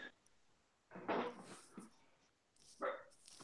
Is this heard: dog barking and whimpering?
yes